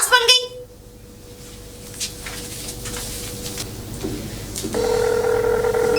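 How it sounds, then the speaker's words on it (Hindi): A telephone rings in a home, starting with a short burst and then sounding as a steady electronic tone later, with some background noise in between. "फोन उठाइए पिताजी। बेटी का फोन।"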